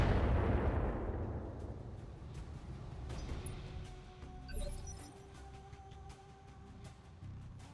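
Long-range missile bombardment in the BattleTech mech game: a heavy low rumble of impacts and blasts opening loud and rolling on, with scattered sharper pops, metallic clinks and faint tonal alert sounds layered over the barrage.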